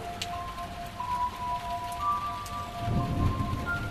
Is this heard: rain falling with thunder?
yes